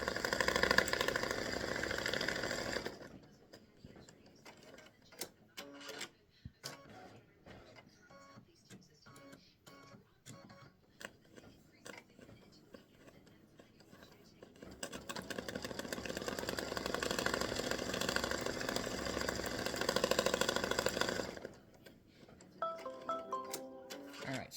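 An embroidery machine stitching leaves onto a greeting card, a steady mechanical whirring and rapid needle clatter that pauses in the middle and resumes, close and continuous.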